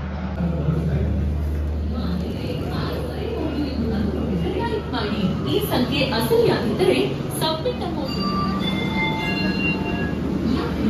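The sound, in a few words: Garib Rath Express train at the platform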